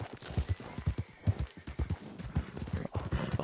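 Horse hooves clip-clopping in the video game Red Dead Redemption, a steady close rhythm of hoof strikes on the ground continuing throughout, with no talking over it.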